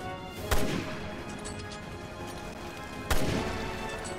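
Gunshots in Resident Evil 2, two sharp, loud handgun reports about two and a half seconds apart, each with a short decaying echo over a steady low game ambience.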